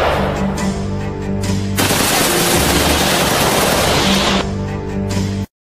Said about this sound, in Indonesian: terdengar bunyi tembakan tuh dari sana